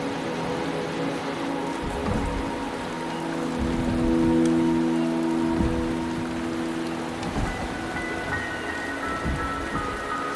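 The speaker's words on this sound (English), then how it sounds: "The rain is subsiding, and the sky will soon clear." Steady rain falls in the video game Wuthering Waves, a constant patter of drops on surfaces over soft sustained musical tones, moderately loud with occasional heavier thumps.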